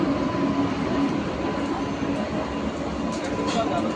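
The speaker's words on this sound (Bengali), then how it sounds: "ট্রেন এটা।" A new electric MEMU commuter train rolls by close at hand, a steady, loud, broadband rumble that continues without a break for several seconds.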